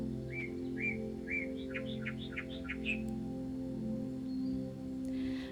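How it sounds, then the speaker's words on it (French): Birds chirp in a short series of clear, repeated whistled notes, fairly close, over a steady low droning hum, then fall quiet near the end. "Et vous entendez aussi le chant des oiseaux."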